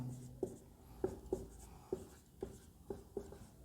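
Writing on a board during a trigonometry lecture, with a series of sharp taps and short strokes of chalk or marker in an irregular rhythm, heard close and alone.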